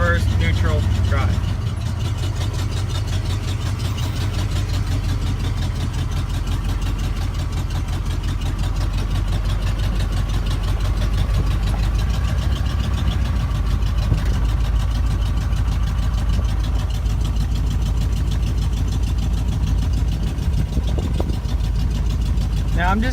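A Ford Bronco with known mechanical issues idles loudly and steadily close by, its deep rumble continuous and unbroken throughout.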